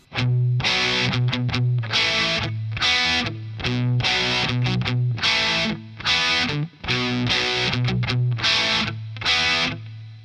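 Distorted electric guitar chords from a theme strummed in a steady rhythm, each strum followed by quick muted chops, loud and close with no voices.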